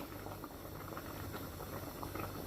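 Okra soup bubbles steadily in a pot, a soft, even, continuous boiling with no other sounds or voices.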